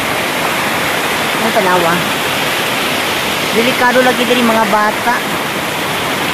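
Sudden dark floodwater surges loudly down a stream, a constant roaring rush close by while someone speaks over it twice.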